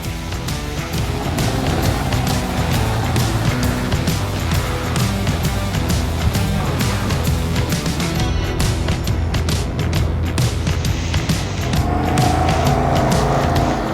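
Motorcycle ridden around the maneuvering yard of a Polish driving exam centre during a category A practical test, its engine running loud and steady throughout with rising and falling revs as it moves through the course.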